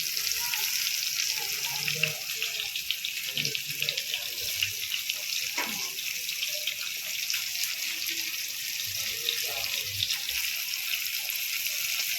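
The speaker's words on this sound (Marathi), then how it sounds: "आपण सगळे मासे एका तव्यावरती तळून घेणार आहे" Mackerel fillets fry in oil on a home griddle, giving a steady, crackling sizzle throughout with occasional clinks and soft kitchen sounds, and a voice speaks intermittently.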